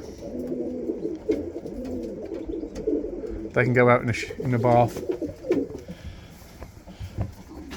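Pigeons coo in soft, throaty bursts close by, while a person talks over them.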